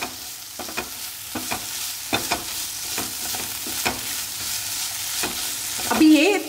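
Long strips of green bell pepper are stir-fried in a hot pan for restaurant-style paneer jalfrezi, with a steady sizzle broken by repeated spatula scrapes and clatters. A louder clink comes near the end, and nobody speaks.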